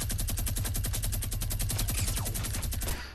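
A minigun fires in a video game, a loud, rapid, continuous stream of evenly spaced shots for about three seconds before cutting off.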